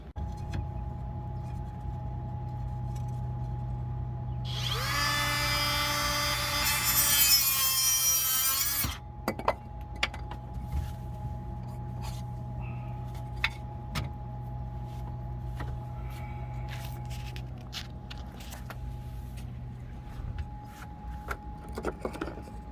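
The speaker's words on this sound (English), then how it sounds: "let me put my mask on, and we'll cut that little piece of Kusa board" A die grinder cuts through a small piece of Coosa board composite core during a trawler deck repair, a loud high-pitched whining grind lasting about four seconds, followed by quieter clicks and handling noises against a steady background hum.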